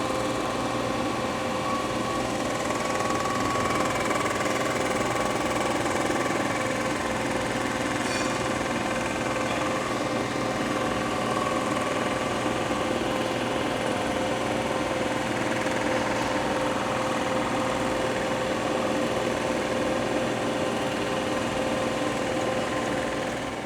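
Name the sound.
machining skim pass on Porsche 997.1 3.6L engine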